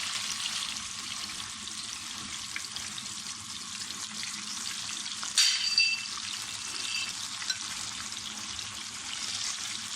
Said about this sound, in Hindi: मछली को फ्राई करेंगे।